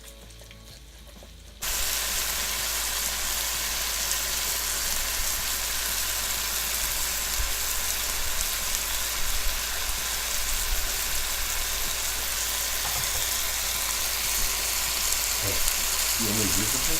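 Onion frying with spicy pork in a pan, a steady loud sizzle that starts suddenly after a quiet moment and continues evenly, with occasional stirring scrapes near the end.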